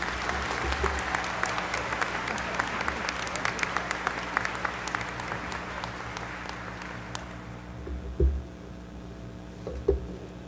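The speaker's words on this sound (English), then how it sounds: "Please join me in a big round of applause." Commencement audience at Averett University's spring 2019 graduation gives a big round of applause, dense sustained clapping filling a large hall for about seven seconds, then fading to a quiet murmur with a couple of soft thumps.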